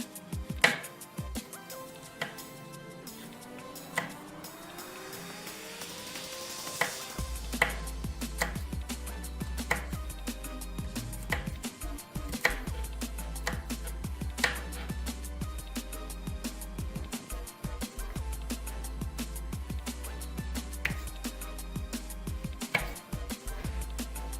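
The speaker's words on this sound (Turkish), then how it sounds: "Ve ufak ufak doğrayalım." A knife chops green almonds repeatedly on a cutting board, sharp regular taps close by, over a low background hum with music-like tones.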